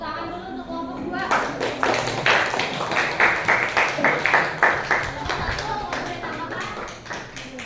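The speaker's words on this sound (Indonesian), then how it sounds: "Tepuk tangan dulu untuk kelompok 2." A classroom group claps for the second team at a teachers' coaching session, first a quiet start with a voice, then a burst of rhythmic, fairly close clapping that fades toward the end.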